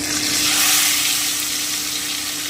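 Spice paste sizzles steadily in hot oil in a pan, a close, continuous frying hiss with a faint steady hum beneath it and no talking.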